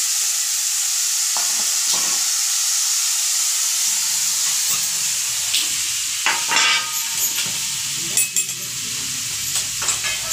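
Green chilli pumpkin curry cooking in a village kitchen, with pumpkin pieces frying in a hot pan: a steady steamy sizzle runs throughout, and sharper crackles and scraping stirs come through in the latter half, with no one speaking.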